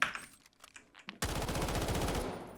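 Sustained automatic gunfire from the Delta Force video game erupts after a second of quieter game noise, a dense rapid burst of shots that stays loud to the end.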